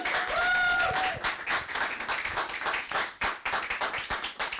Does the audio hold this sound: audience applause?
yes